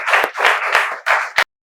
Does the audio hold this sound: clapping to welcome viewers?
yes